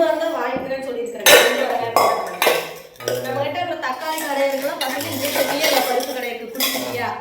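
Steel pots and vessels handled up close, with repeated sharp metallic clanks and ringing clinks at irregular intervals, while people talk over the clatter.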